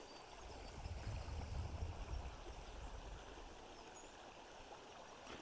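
River water streams steadily past a canoe on a cold, peaceful river, a continuous broadband rush with a low rumble that swells briefly and then settles into an even flow, with no voices.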